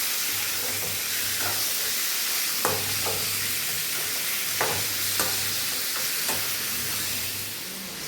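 Food stirred in a pan over a high flame gives a continuous hissing sizzle, with intermittent scrapes and clinks of a ladle against the pan and a low hum underneath, close and steady.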